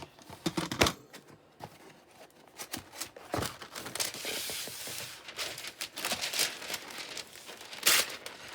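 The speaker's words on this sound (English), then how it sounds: "I'm not sure how well the baking paper cuts in this" Baking paper is crinkled and cut from a roll, giving close, irregular crackles, rustles and snips with short pauses between.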